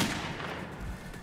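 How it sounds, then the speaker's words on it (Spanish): Gunfire in the video game Metro 2033 Redux, a single booming shot with a rumbling decay that fills the short moment, loud and without speech. "cuando suelto el disparo"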